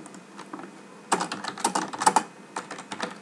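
Quick, uneven keystrokes clatter on a computer keyboard, close and clear, with no voices over them.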